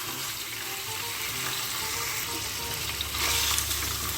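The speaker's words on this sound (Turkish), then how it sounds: "tenceremizin içerisine yaklaşık 400 gram kadar kuzu etimizi ilave ediyoruz" About 400 grams of lamb meat sizzles in a hot pot for Uzbek pilaf, a steady, dense crackle and hiss that grows slightly louder toward the end, with no voices.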